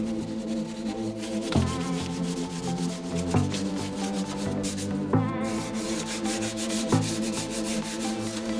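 Sanding primer on a Honda Integra DC2 body: steady, close rubbing strokes with a repeated rhythm of regular back-and-forth scrapes and no voices.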